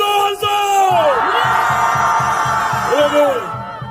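A crowd at an anti-impeachment street rally outside Dongdaegu Station shouts and cheers loudly in a sustained roar, with rhythmic bursts of massed voices throughout.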